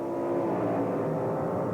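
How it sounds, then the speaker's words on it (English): A 1980 Pro Stock drag racing car launches at high engine RPM, giving a loud, steady, dense engine roar that holds without a break for a moment. "The engine's high RPM and a great start by Lee Shepard."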